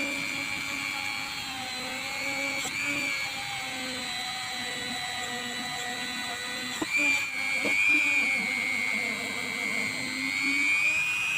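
A mini die grinder fitted with a polishing wheel runs steadily at high speed, a continuous whine with brief changes in load as it polishes, alone and close.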